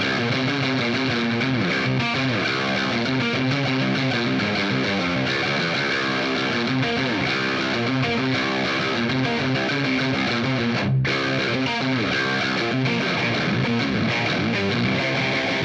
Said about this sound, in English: today I want to show you my new distortion pedal, which is this Pugilist Distortion by Fender